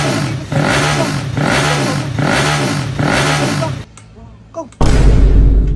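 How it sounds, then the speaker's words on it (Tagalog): Drag bike motorcycle engine being tuned, revving loudly in repeated rising bursts up close, then a brief lull before another loud, sustained roar at the end. "Tigas tumunog ang lakas siguro ng motor na ito."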